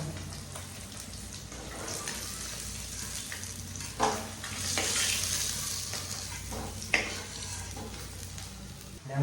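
Fish frying in hot oil in a room kitchen, a steady broad sizzle with a few sharp spatters and stirring clatters, near and fairly loud, no talk.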